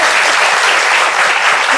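Audience applause at an Indonesian talk-show taping, a dense, steady wash of clapping from a sizeable crowd that holds at full strength for the whole short stretch, with no voices breaking through.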